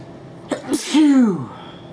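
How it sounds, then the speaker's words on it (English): A man with a summer cold sneezes once, close and loud: a short sharp intake and burst, then a voiced trailing exhale that falls away into quiet room noise. "I was sneezing."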